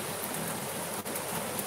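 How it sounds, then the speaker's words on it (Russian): Rain falling steadily, a dense, even hiss of drops on surfaces that holds constant throughout with no voices. "Да, дождь снова усиливается."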